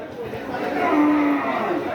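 Cattle at a busy rural livestock market before Eid: a cow gives a long, close, steady moo over a background of crowd chatter and murmuring voices.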